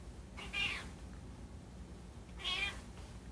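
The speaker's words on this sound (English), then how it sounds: "Here's my cat. She was being so annoying." A pet cat meows twice, each call short and fairly close, with a quiet pause between them over a hushed indoor background.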